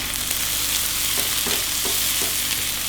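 Scrambled eggs with sambal and spring onion are stirred in a hot frying pan, giving a loud continuous sizzle broken by soft scraping strokes of the spatula.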